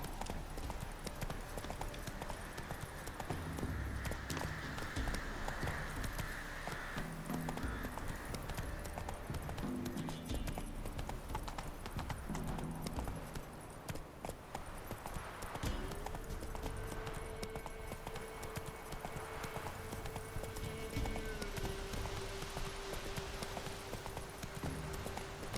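Roach, the horse in The Witcher 3, clip-clops along at a steady hoof rhythm for the whole stretch, continuous and fairly close amid game ambience and music, with no talk.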